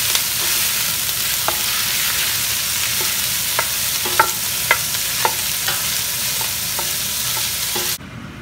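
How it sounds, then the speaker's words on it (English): Smoked sausage browning in olive oil in a pan for jambalaya pasta, a constant loud sizzle punctuated by a series of spatula taps and scrapes, ending abruptly. "now I'm going to add my smoked sausage to it"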